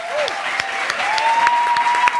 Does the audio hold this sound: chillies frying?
no